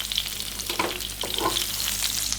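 Spice paste sautéing in hot oil until wilted, a steady close sizzle and crackle with a couple of brief stirring scrapes, no talking.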